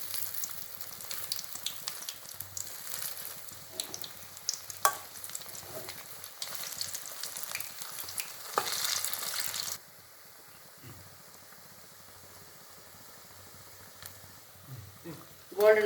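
Urad dal and onion bondas frying in hot oil, giving a steady soft sizzle and bubbling at moderate level that drops abruptly to a faint simmer partway through, with occasional stirring scrapes near the end.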